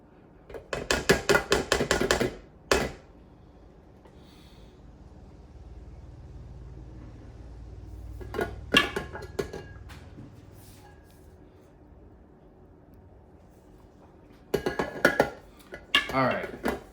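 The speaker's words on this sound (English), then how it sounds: "scrape my bowl again" Dry oatmeal mix of flour and baking ingredients being scraped around a bowl with a utensil, producing bursts of rapid clinking scrapes near the start, middle and end, separated by quiet stretches with low background hum.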